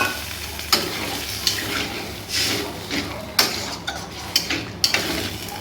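Water poured into a hot pan of mixed vegetables for shukto, cooked with patol leaves, gives a steady close sizzle broken by sharp clicks and taps of a utensil against the pan.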